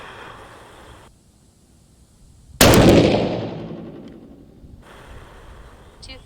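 A single loud, sharp rifle shot fired during a primer velocity test cracks out and rings off in a long decaying tail, with quiet before and after.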